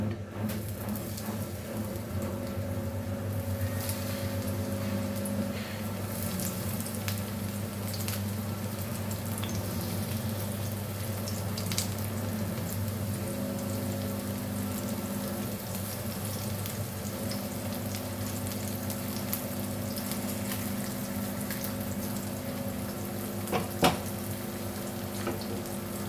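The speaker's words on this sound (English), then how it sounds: "So let this fry nicely." Grey snapper fillets coated in rava frying in hot farm-fresh coconut oil, giving a steady, close crackling sizzle with occasional pops and utensil clicks.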